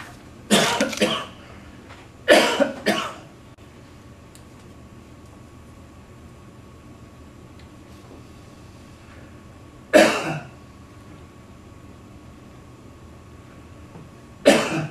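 Four separate bursts of coughing at a county commission meeting, two close together near the start and two more spaced out later, over a faint steady hum in a quiet room.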